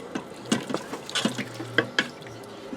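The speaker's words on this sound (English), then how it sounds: "Give that a stir" Goulash with thyme and black pepper is stirred in a pressure cooker, making a series of wet scrapes and soft clinks at an uneven pace, close and moderately loud.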